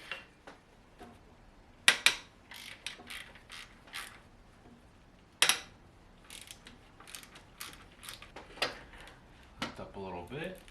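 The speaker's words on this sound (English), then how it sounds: "we're also ready to take away the 2 bolts that are on the alternator" A ratchet works loose the alternator bolts on an SN95 Mustang GT from the 1996–2004 years, giving sharp irregular clicks and creaks in short bursts, with brief handling noises between them.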